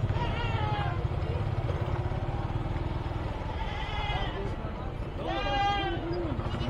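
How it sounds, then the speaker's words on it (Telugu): Sheep and goats bleat at a crowded livestock market, with several wavering calls rising from a dense background of voices and crowd noise. "మొత్తం గొర్రెలు మేకలు."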